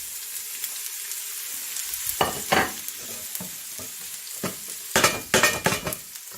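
Onion frying in a pan, a steady soft sizzle broken by several bursts of stirring and scraping as the pieces are moved around.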